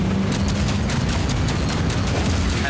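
Dense, continuous battle noise from the Warhammer 40,000 Speed Freeks video game, with rapid gunfire and rumbling explosions blending into a steady, loud wall of sound with no pauses.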